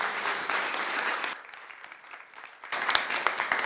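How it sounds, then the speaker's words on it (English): A class audience at a body language session applauds, a loud burst of clapping that thins into lighter scattered claps before swelling again near the end. "Give her a big round of applause."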